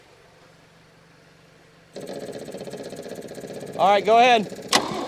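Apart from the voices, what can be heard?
1961 Chevy Biscayne engine cranking and starting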